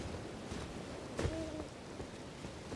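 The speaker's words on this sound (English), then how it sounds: "Oh, I hear an owl." An owl hoots in the Elden Ring video game, a single soft tonal call rising once above quiet, rain-like ambient background noise.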